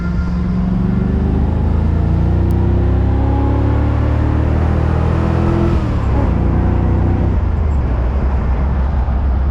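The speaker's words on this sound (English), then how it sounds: "we're gonna give this Bad Larry the chowder in second" A Ford Fox Body Mustang that misfires a little is driven hard in second gear, its engine droning loudly and rising in pitch as it accelerates, heard from inside the car.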